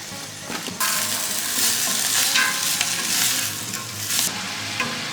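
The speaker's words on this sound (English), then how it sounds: "After about 15 minutes sweating the vegetables" Chopped vegetables, green onions and parsley sweating in a hot pan, a steady close sizzle with stirring scrapes running throughout, no voices.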